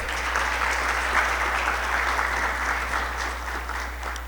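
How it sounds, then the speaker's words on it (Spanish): An audience applauds guests of honor at a medical students' association event, a sustained, even round of clapping from a seated crowd, with a low steady hum underneath. "Un aplauso, por favor."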